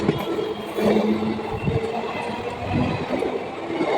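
An express train pulls out along line three at night, heading toward Naihati, a steady rolling rumble of wheels and carriages that stays loud and close throughout with no break.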